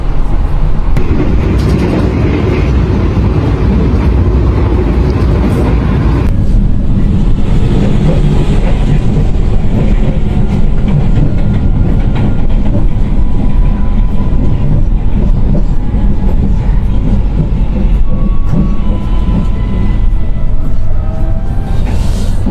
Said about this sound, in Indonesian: Oke, kita masuk di stasiun Yogyakarta Tugu.